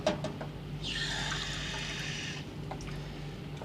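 Water is poured into a glass on board a ship: a quiet room tone, then a bright, splashing pour lasting over a second before it stops, followed by faint small clinks.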